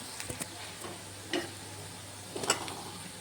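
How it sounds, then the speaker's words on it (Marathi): Curry leaves, green chili and onion with a pinch of asafoetida sautéing in a pan, giving a faint, steady sizzle broken by a few soft scrapes and ticks of a stirring spoon. "कढीपत्ता मिरची कांदा आणि हे छान असं परतवून घ्यायचं आहे थोडंसं हिंग"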